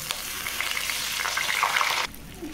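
Soaked rice being fried in ghee with cloves and cardamom for pulao, a close crackling sizzle with stirring that drops away sharply near the end.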